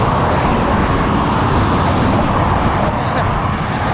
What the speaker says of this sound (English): When the trucks pass, it's a little scary.